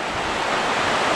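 Water gushing straight out of the ground on a mountainside, a steady, dense rushing wash with no pauses, close and fairly loud.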